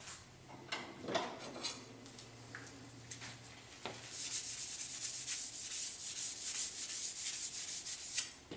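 Sandpaper rubs across a steel seax blade, polished toward 220 grit, with soft, faint scratchy strokes, a few scattered scrapes at first, then a steadier run of rhythmic back-and-forth rasping close by.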